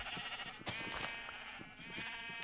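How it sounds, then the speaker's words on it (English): Minecraft sheep bleat in a pen, with several quavering bleats overlapping in quick succession, moderately close and quiet, with no talk over them. "How a black sheep got in here is beyond me. This was all white sheep."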